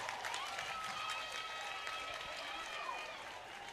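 Church congregation applauding, a dense, steady wash of many hands clapping at middle distance, with a voice talking over it for much of the time.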